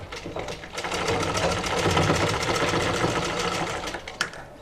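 A sewing machine double-stitches a fabric strip onto a blouse, a loud, rapid, even mechanical chatter running almost without pause, ending with a single sharper clunk.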